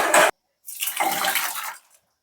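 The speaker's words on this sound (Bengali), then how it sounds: "ডালটা আমি এখানে ঢেলে নিচ্ছি এখন" Lentil dal mixed with water pours into a cooking pot: a brief splash, a short gap, then a longer gushing pour that trails off, close and fairly clear with no talking.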